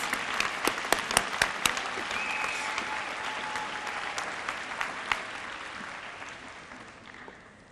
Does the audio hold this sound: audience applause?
yes